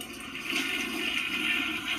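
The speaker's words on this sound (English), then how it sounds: "Now I have to flush the toilet." Household toilet flushing, a steady rushing gush of water that swells after a brief onset and continues evenly, close by and fairly quiet, with no talk.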